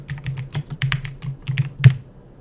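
Typing on a computer keyboard: a steady run of close, crisp key clicks in an uneven rhythm, with one sharper tap near the end and no talking.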